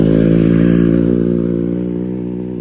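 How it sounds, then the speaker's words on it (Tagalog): A loud motorcycle engine drones steadily up close as motorcycles ride uphill at Rodriguez Nature Park, gradually fading as it labors on. "paakyat sila guys. Ang ganda ng mga motor nila."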